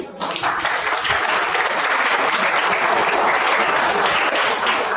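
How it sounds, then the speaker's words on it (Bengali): An audience at a school gathering applauds a student, a dense, loud and even burst of clapping that fills the room and continues steadily without pause. "আমাদের সুরজিৎ কুটুম মহোদয় তার জন্য একবার হাততালি দিতে বলবো।"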